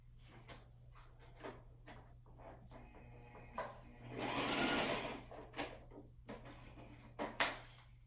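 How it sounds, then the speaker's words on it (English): A sewing machine stitches through paper in short bursts, its rapid mechanical stitching louder in the middle, with clicks and handling noises between runs. "I'm going to go ahead and run these two through my sewing machine"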